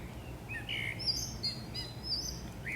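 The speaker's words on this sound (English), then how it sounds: "It's a toucan." A toucan gives short chirping bird calls, a few brief tweets over steady low background noise, moderately faint and without talk.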